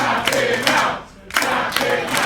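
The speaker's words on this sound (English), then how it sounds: "Crowd are calling for it." Pro wrestling crowd chanting in rhythmic bursts, loud and close, with a short dip before the chant resumes.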